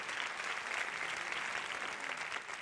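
Audience applause at a televised Turkish awards ceremony, steady dense clapping from a large crowd filling the whole stretch without a break.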